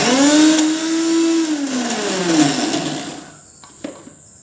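An electric mixer grinder blending figs with sweetened milk into a paste: a loud, steady motor whir that gradually drops in pitch and winds down to a stop, followed by a couple of small knocks.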